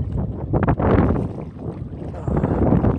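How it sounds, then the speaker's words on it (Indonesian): Wind gusts over open sea at Tanjung Binga while a small wooden sampan is paddled on a fishing trip, a steady loud rushing buffet with microphone wind noise throughout. "Jelang siang anginnya makin kencang"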